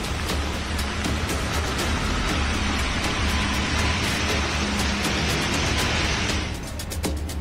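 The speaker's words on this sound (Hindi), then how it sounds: "सुबह से ही बरेली में बारिश हो रही थी" Heavy rain falls across Bareilly, a dense, loud, continuous hiss of drops hitting surfaces, easing slightly near the end.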